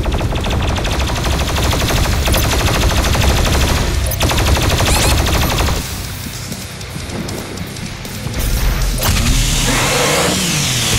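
The BFG 10,000 fires in DOOM Eternal within a loud, chaotic mix of rapid gunfire-like bursts and roaring mechanical noise, dipping briefly before surging back.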